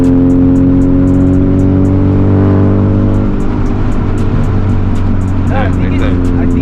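Several Honda Civic Type R cars on a canyon road run with a loud, close engine drone that winds down in pitch and then holds, with wind buffeting and people talking over it.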